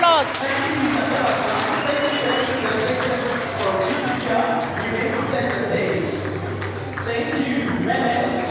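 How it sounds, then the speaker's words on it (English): Clapping from an audience at a 2023 education awards ceremony rolls on under a mix of crowd noise and talking, moderately loud and continuous without any clear break. "Can we give them a big round of applause?"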